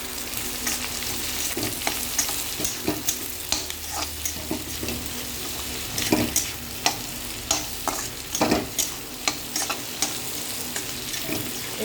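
Jackfruit core and fried potato pieces sizzle steadily in a hot pan with onions while a spoon scrapes and stirs them, producing repeated clattering strokes over the continuous frying hiss.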